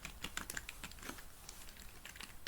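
Rapid, light keystrokes patter on a computer keyboard as code is typed, close and fairly quiet, with an uneven run of clicks and no talk over them.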